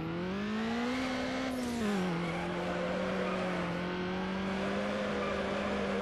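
Car engine in the racing game Need for Speed Underground, revving hard and continuously while drifting, a loud sustained whine that dips in pitch then holds steady, with faint tire squeal.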